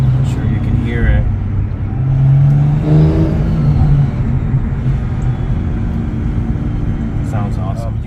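A BMW M340i with an Omega turbo upgrade rumbles and revs nearby, its engine note swelling in a couple of surges beneath someone talking.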